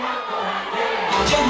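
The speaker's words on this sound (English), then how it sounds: "You know, I'm seeing a very big crowd." A very big crowd of students fills the air at the Kyambogo University freshers' ball, a steady dense roar of many voices that swells into louder cheering near the end.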